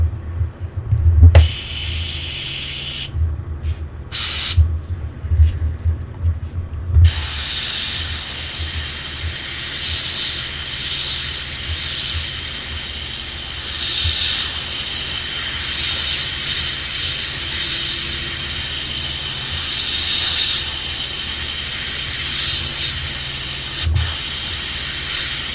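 An airbrush sprays paint in a steady, continuous hiss lasting most of the clip, loud and close, after a few brief bursts at the start, with no talking.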